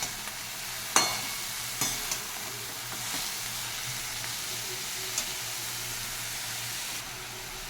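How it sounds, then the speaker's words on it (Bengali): Leafy greens fry in a pan of hot oil with dried red chili and nigella seeds, giving a steady, quiet sizzle broken by a few sharp pops and clicks of stirring near the start. "এই তেলে দিয়ে দিলাম শুকনো লঙ্কা আর কালো জিরে শাক ভাজার জন্য।"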